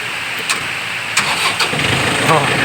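A Yanmar 51 hp tractor engine cranks and catches, sputtering into a rough mid-pitched idle with a few uneven bursts, close by, under someone talking.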